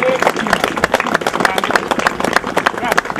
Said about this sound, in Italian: grande applauso per ricordare Ugo Traini